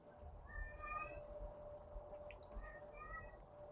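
A cat meows several times in drawn-out, wavering cries, fairly faint over a steady background hum.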